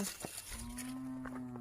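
Cattle kept in a rice field let out one low, drawn-out moo, faint and somewhat distant, over quiet open-air ambience.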